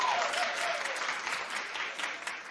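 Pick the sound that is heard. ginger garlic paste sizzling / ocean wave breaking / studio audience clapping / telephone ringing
studio audience clapping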